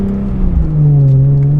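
A BMW E46 M3 with an SMG gearbox, in sport mode, holds a steady engine drone, then the pitch drops as it shifts and the engine settles into a lower, louder hum inside the cabin.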